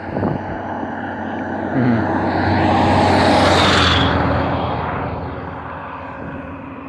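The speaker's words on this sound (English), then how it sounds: "There he is, Mr. Helicopter, right there." A helicopter's engine and rotor roar swells as it passes overhead, peaking loudly in the middle and then slowly fading as it moves away.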